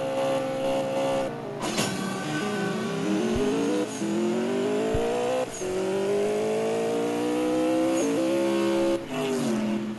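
A race car in the CSR 2 drag racing game revs hard through the gears: a loud, close engine whine rising in pitch, dropping at each shift and climbing again, repeated several times with no talk.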